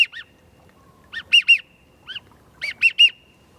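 Widgeon whistle imitated on a duck call: short, clipped two- and three-note whistled bursts in a back-and-forth pattern, clear and close with quiet gaps between phrases.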